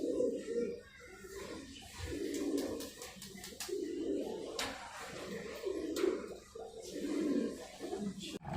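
Pigeons coo in low, repeated bursts outdoors at the start of a day of long-distance homing release, with scattered sharp clicks and rustling around them; the cooing swells and fades in a steady rhythm, fairly close.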